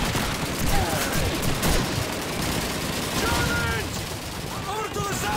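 MG42 machine gun fire in Call of Duty 2 rattles in dense, continuous bursts amid chaotic battle noise, with a voice heard over the din.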